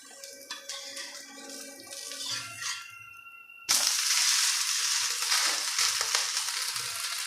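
Drumstick leaf and rice adai roasting in a pan gives off a steady close sizzle and hiss, quieter and broken at first, then suddenly louder and continuous after a few seconds, with no talking.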